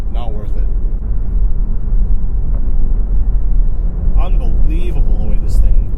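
A 2016 Cadillac CT6 Premium V6 AWD rumbles low and steady through corners, heard from inside the cabin beneath someone talking.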